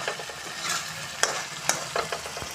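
Potatoes are turned through spice masala in a pan, giving a continuous hiss of frying with repeated scraping and clicking strokes of stirring, close and fairly loud.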